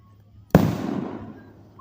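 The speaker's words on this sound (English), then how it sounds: "20 minutes of straight fireworks is a lot." During a July 3rd fireworks show, a single loud firework bang bursts nearby and is followed by a rumbling echo that fades over about a second.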